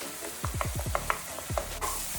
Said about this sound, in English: already you can see my tadka is sizzling